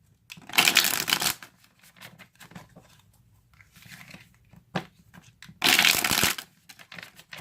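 Tarot cards being shuffled in two loud bursts, near the start and again toward the end, with quieter card handling and rustling in between.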